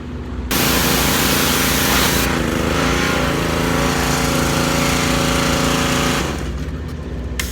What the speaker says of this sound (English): you want to stick the hose in the exhaust and just let it rip, and then put it inside the air box and clean that really good